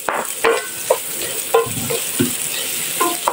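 Garlic stir-fries in a hot pan for pork belly and ampalaya, a steady sizzle broken by repeated scraping strokes of a spatula in an uneven rhythm.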